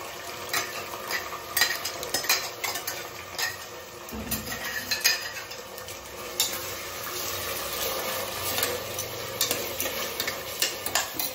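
Ground masala paste is tipped into a cooking pot and stirred, with a spoon scraping and knocking against the metal in irregular clatters over a low sizzle.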